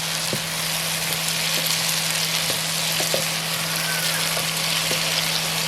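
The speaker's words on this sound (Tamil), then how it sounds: "இது இங்கால விரும்பிலிக்காய் நல்லா வதங்கப்பட்டுக்குது." Bilimbi fruit sautés in a pan with a steady, soft sizzle and a few light scraping stirs spaced about a second apart, under a constant low hum with no talk.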